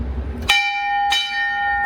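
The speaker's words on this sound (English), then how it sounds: "I'm gonna ring the bell" A ship's bell aboard the tall ship SSV Tabor Boy is rung by pulling its clapper, giving three loud, close, bright strikes roughly half a second apart, each ringing on with a sustained metallic tone.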